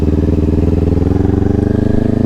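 Motorcycle engine idling and rolling with a steady, close pulsing thrum and even low rhythm as the rider prepares to shift down into first gear, no talking.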